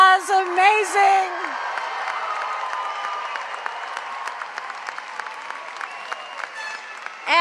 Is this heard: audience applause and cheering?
yes